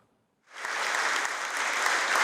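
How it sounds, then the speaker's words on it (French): Thunderous applause from an audience in an amphitheatre at the École nationale d'administration, bursting in after a brief silence and then holding as a loud, dense, steady roar of clapping. "Un tonnerre d'applaudissements dans cet amphithéâtre de l'École nationale d'administration"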